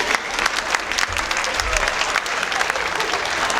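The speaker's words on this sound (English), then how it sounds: "Give them all a big round of applause." A dance marathon crowd at a hypnosis show applauds, a dense, steady wash of close clapping that continues throughout with faint voices mixed in.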